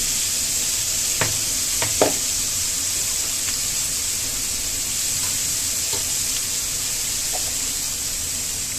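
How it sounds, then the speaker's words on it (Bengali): Flour is stirred into milk in a bowl: a continuous soft swishing hiss with a few light clicks of the utensil against the bowl, close by and steady. "সেই দুধটা আর যে ময়দাটা নিয়েছিলাম সেই ময়দাটা দুধটার সাথে আমি একটু গুলিয়ে নেব ভালো করে"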